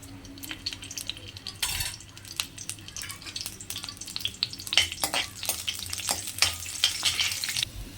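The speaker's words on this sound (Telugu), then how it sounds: "పచ్చిశనగపప్పు జీలకర్ర ఎండుమిర్చి అండ్ వెల్లుల్లి ఇవన్నీ వేసి ఫ్రై చేసుకున్నాను" Chana dal, cumin seeds, dry red chillies and garlic fry in hot oil for a tomato chutney, sizzling steadily with scattered crackles and pops, stirred with a few soft scrapes against the pan, no voices.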